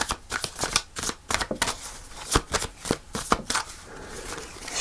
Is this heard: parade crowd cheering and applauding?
no